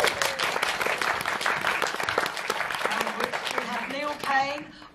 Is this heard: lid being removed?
no